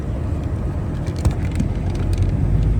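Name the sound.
car driving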